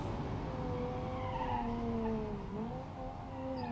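Hard braking and skidding of an ETK S Series car in the BeamNG Drive game, a steady engine drone under a bending tonal tire squeal that slides down in pitch and recovers, continuous and close with no talk.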